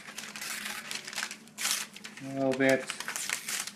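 A sheet torn off by hand in a kitchen to roll into a small tube, giving a short crinkly rip among soft rustling as someone talks throughout.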